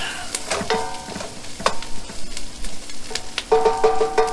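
Bell pepper, onion and celery sizzle loudly as they hit a hot pan for shrimp étouffée, with steady frying hiss and a few sharp clinks of a utensil stirring.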